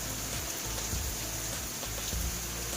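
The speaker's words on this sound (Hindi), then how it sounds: "नहाने लायक बारिश हो रही है पानी में बहुत तेज" Heavy evening rain pours steadily outdoors, a dense, even hiss of water falling on surfaces, faint and continuous with no voices.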